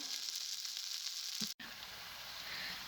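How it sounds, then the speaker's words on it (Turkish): Hot oil sizzles steadily as meatless cutlets fry in a pan, a close hissing crackle with a brief pause partway through. "Katletlerimiz artık kızarırlar."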